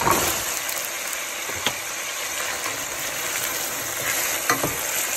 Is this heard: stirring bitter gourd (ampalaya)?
yes